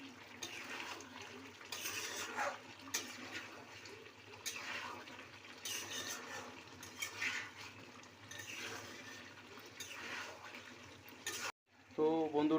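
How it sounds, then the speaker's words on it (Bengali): Chicken meat being stir-fried in a pan for a spicy red Bengali-style chicken curry, a steady crackling sizzle with stirring scrapes throughout, then a brief pause and louder sizzling near the end. "মাংসটাকে কষিয়ে নিচ্ছি। ভালো করে কষিয়ে নিব।"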